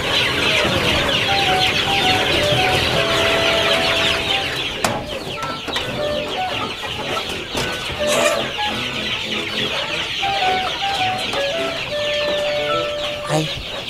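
Chickens in a video game, a flock clucking and squawking continuously at close range, with a rooster-like call among them and steady game background noise underneath, no speech over it.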